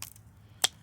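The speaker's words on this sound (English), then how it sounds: "I'm going to cut it just above this one." Pruning shears snip through an elderberry stem with a single sharp, close click, heard against a faint background.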